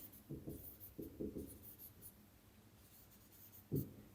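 Writing on a board during a geometry class produces short scratchy strokes in bursts, with pauses between them, faint and close in a quiet room.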